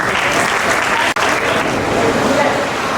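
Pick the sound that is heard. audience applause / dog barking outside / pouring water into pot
audience applause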